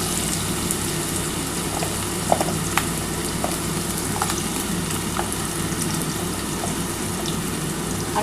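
Potato and raw banana pieces fry in a pan of hot oil, giving a steady, dense sizzle that stays even throughout, with faint clicks and pops close by.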